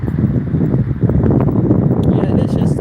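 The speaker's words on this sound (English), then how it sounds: "it is just so breezy out here." Breezy outdoor wind buffets the microphone with a constant low rumbling roar through the whole stretch, and faint rustling sits underneath.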